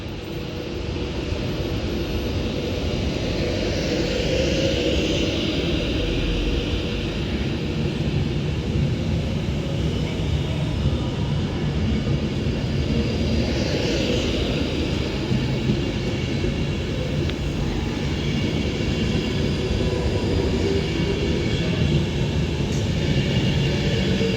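An Avanti West Coast Class 390 Pendolino departs Stoke-on-Trent station, giving a steady broad rumble and whine that stays loud and continuous throughout, with faint shifting tones riding above it.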